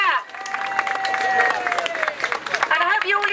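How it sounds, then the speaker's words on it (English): Outdoor crowd at an NHS 70th birthday party outside Ealing Hospital cheers and claps loudly, a dense burst of applause with whoops and raised voices mixed in. "Big cheer!"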